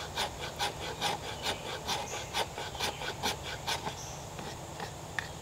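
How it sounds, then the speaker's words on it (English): A knife's 90-degree spine scrapes a piece of fatwood outdoors in the woods, making about a dozen rhythmic rasping strokes, close and crisp, with short pauses between them. "Does good scraping."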